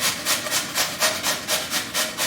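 Potatoes grated by hand on a kitchen grater for a dinner recipe, with about eight steady, evenly spaced scraping strokes that sound close and fairly loud, with no talk.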